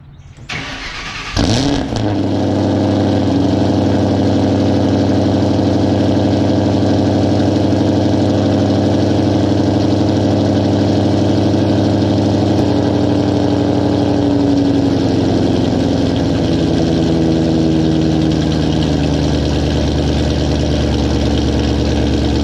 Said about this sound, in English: you fucking freaks just absolutely love these obnoxious, ridiculous cold starts